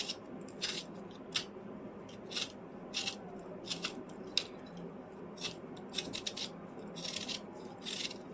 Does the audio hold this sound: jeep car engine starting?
no